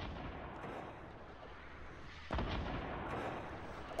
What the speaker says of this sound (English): Let the rockets fire.